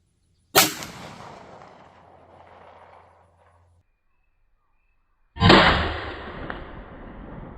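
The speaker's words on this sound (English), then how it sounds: "I'll go ahead and send one more shot down." Two sharp gunshots from custom .410 slug handloads, each a loud crack with a decaying outdoor echo, spaced about five seconds apart with near silence between them.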